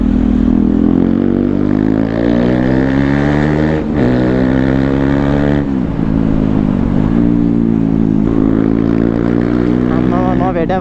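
A KTM Duke 250 motorcycle's loud aftermarket-style exhaust runs continuously close by, its engine note rising and falling through repeated revs, with a sharp blip near four seconds and a steady throaty drone throughout.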